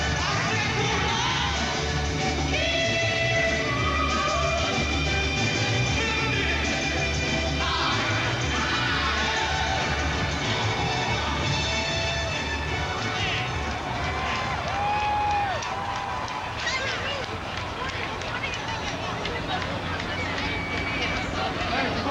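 Large crowd awaiting President-elect Barack Obama's arrival on stage, a continuous murmur of babble and scattered cheers filling the space under steady background sound.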